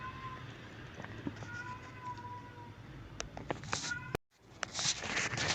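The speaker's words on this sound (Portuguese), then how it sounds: "o meu gato está chorando lá fora" A cat meowing outdoors, faint and somewhat distant wails over steady background noise, repeating a few times with some brief knocks and a short dropout near the end.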